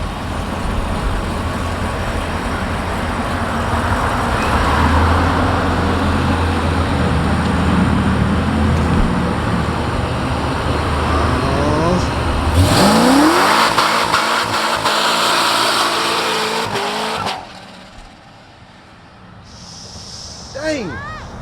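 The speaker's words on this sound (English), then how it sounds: "Y'all hear that turbo in that thing?" Turbocharged car engine roaring and revving hard at a Corvette car show, loud and close with a rising whine, under crowd noise and voices before it cuts away to a quieter scene.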